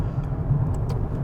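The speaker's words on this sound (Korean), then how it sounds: "아 백파이프 터지는 소리" A four-cylinder Maserati Ghibli Hybrid in manual paddle-shift mode rumbles with a steady exhaust drone, broken by a few brief crackling pops heard from inside the car at moderate volume.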